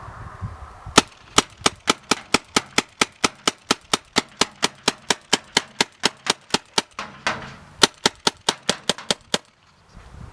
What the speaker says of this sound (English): He's going to fire all this paint out of the hopper.